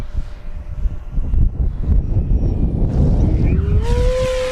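A small E-flite V1200 radio-controlled plane flies low over a grass field. Its electric motor buzzes steadily with a fluttering drone, then rises into a sharp whining pitch as the plane passes close.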